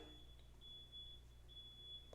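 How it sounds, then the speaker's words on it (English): A faint, high electronic beep from a truck outside repeats at a steady pace in the distance over a quiet low hum. "I don't know if y'all can hear that beeping. I think it's a truck outside."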